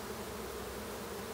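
Honeybees hum steadily around a swarm on a homestead, a faint, continuous buzzing drone with no voices over it.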